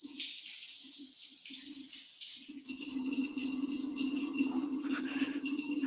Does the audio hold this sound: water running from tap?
yes